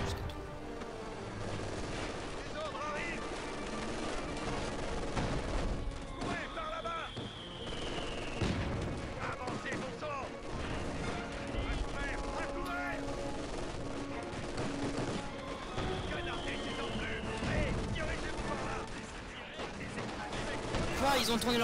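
Machine-gun fire and other gunshots in the Company of Heroes 2 D-Day workshop mission, with bursts and distant booms running continuously through the scene while players talk over the battle.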